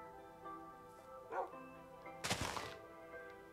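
A dog in Minecraft yips and barks in a couple of short bursts, the second louder and fuller, over quiet background game sound.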